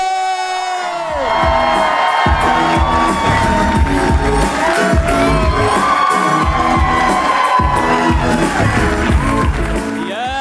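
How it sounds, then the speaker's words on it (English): A comedy special crowd bursts into loud applause, cheers and whoops as the comedian is introduced, a dense roar of clapping and shouting that rises and holds strongly across the whole stretch. "Can we please give a huge round of applause for the one and only Neel"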